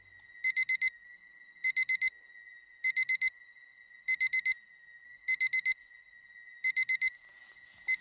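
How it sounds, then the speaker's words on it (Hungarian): An alarm clock beeps in steady bursts of four rapid high tones, repeating about every second and a quarter, alone and fairly loud. "az ébresztő"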